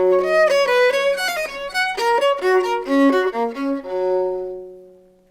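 Keyboard playing the dreamy first episode of a Bach fugue, interweaving melodic lines in clear separate notes, close and alone, ending on a sustained chord that fades out.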